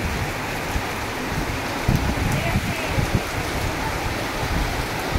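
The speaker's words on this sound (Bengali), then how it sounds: "ঝড় উঠেছে, বৃষ্টি উঠেছে, বৃষ্টি হচ্ছে দেখুন" Steady rain from a windy storm hissing broadly, with low rumbling gusts and a few thumps; no clear voices, the wash of water constant throughout.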